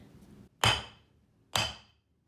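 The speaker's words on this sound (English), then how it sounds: "I'm gonna put the jar into this bag and then break it with a hammer" A hammer strikes a glass jar held inside a bag, two sharp close impacts about a second apart, each with a brief ringing crunch of glass, no talk.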